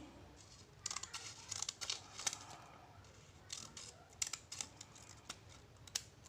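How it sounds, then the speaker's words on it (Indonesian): Scissors snip quietly during a cutting practice session, making a series of crisp, irregular clicks and short cuts spaced through a hushed room. "guntingnya yang akan berputar seperti ini"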